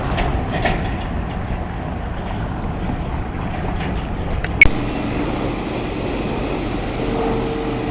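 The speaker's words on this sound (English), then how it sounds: "it's a little noisy right here, but we got a cement truck taking a bath" A cement truck is being washed beside a noisy street in Salt Lake City. It gives a continuous low rumble and hiss, and one short sharp clank or spray burst comes midway through.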